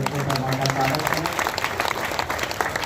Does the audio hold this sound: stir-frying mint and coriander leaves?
no